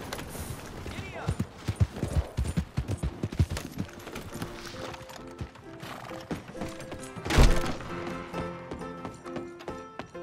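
Horse hooves clip-clop in a quick galloping rhythm in Red Dead Redemption 2, with a whinny partway through, the hoofbeats loud and close before settling under music and background game sound; a man urges the horse on.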